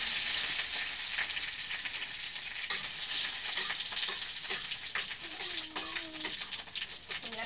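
Whole mustard seeds sizzling in hot oil in a home kitchen pan while preparing idli tempering, a steady close frying hiss with faint pops and a few bird calls in the background.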